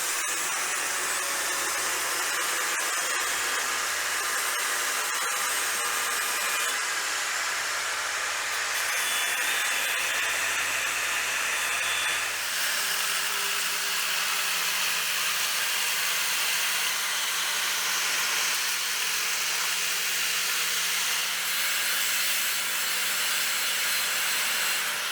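A grinder cutting and grinding down metal pieces in a workshop while building a vise stand, a loud continuous high-pitched whine that runs unbroken throughout, changing pitch slightly partway as the load shifts, with no voices.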